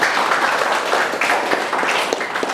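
Students clapping in a classroom in Indonesia, a loud, continuous round of applause from a group nearby, with individual claps standing out through the steady patter.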